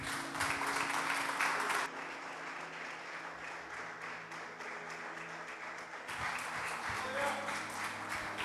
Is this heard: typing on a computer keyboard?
no